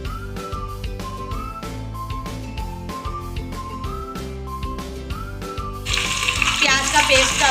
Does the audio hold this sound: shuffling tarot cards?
no